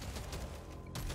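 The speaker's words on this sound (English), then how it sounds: "Kill that exploder. There we go. Big boy explosions." Explosions in the video game Deep Rock Galactic: Survivor go off as a quick burst of crackling, gunfire-like blasts, loud and dense over about a second, with a brief gap before a final pop.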